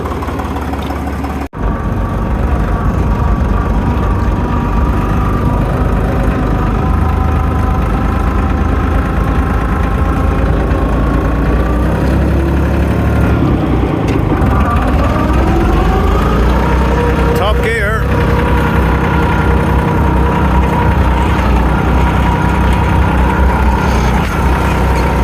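A double dumper's engine starts with a sharp onset, then runs in a steady, close, rumbling chug, rising briefly in pitch midway, with occasional voices faintly under the noise.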